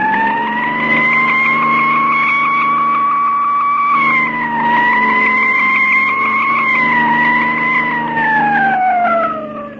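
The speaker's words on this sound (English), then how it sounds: "Step on that siren, Mug, and drive." A loud, steady car siren wails continuously in a 1936 radio drama, its pitch rising and falling slowly, with faint engine rumble of the car driving off underneath and no talking.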